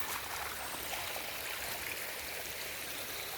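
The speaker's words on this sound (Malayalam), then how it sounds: "ഇതൊക്കെ കണ്ടില്ലേ, നല്ല ഒഴുക്കാണ് ഇവിടെ വെള്ളത്തിൻ്റെ നല്ല ഒഴുക്കാണ്." Rainwater flowing strongly from a pond across farmland after heavy rain, a steady, even rushing and gurgling with no voices over it.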